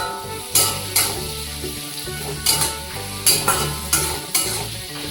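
Garlic, ginger and tomato paste hitting frying onions for Kolkata ghugni, a steady sizzle with several sharp stirring scrapes and clatters of a spoon against the pan.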